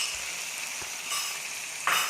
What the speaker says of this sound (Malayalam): ഇതൊന്ന് ഫ്രൈ ആയിട്ട് വരണം. അപ്പോൾ ഇതൊന്ന് ഫ്രൈ ആവട്ടെ.